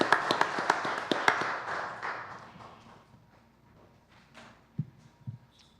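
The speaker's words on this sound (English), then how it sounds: "Let's give them another round of applause." Applause from an audience at a council workshop, a short burst of scattered hand claps that fades over a few seconds to a quiet room, with a couple of faint thumps afterward.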